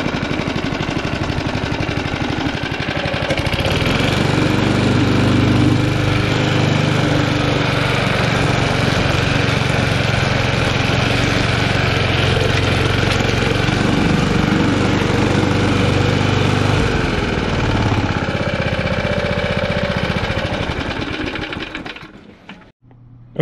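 A vintage heirloom walk-behind lawn mower runs with its self-propel drive engaged, a loud, close, steady engine drone with a rough mechanical rattle that holds for about twenty seconds before the engine winds down and stops.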